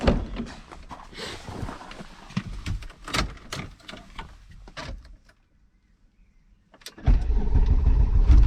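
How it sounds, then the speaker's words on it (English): An old Volkswagen Golf starts up after an oil change in a garage, the engine firing after a short silence and settling into a loud, steady idle close by, with no talk. "All right, now this car should start no problem."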